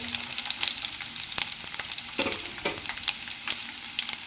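Chillies frying in oil for mirchi pachadi, a close, steady sizzle broken by sharp clicks and scrapes of a spoon stirring against the pan.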